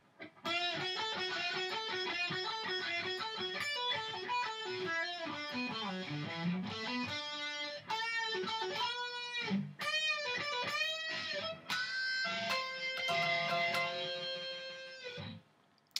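A distorted electric guitar plays the lead break of a rock song note by note at a relaxed pace, with sliding bends and short pauses between phrases, alone.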